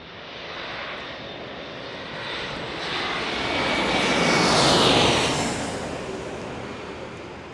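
An Alaska Airlines airliner flown by SkyWest passes over San Diego with a broad jet engine roar that swells to a peak near the middle and then fades slowly, heard alone.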